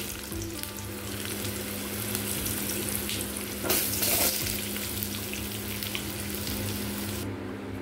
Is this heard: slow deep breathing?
no